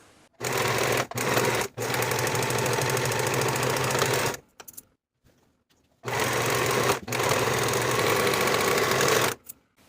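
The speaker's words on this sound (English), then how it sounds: "I'm going to finish the raw edges from the top of the bodice to the bottom of the dress, repeating on both sides" A sewing machine finishes the raw edges of a dress's center back seams, from bodice top to hem. It runs loud and close in two long bursts with brief stops between them.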